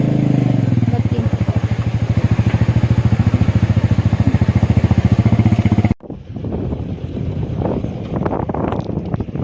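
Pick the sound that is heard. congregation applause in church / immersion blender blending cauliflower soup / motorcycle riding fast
motorcycle riding fast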